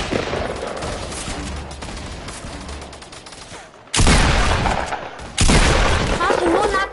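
Fortnite gunfire crackles in loud bursts, with a dense volley arriving partway through and another soon after, over a busy game mix while players talk.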